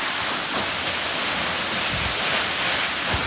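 Fungfunge waterfall in Nuwakot, Nepal, roars as a steady, dense wash of falling water, loud and continuous throughout, with no voices over it.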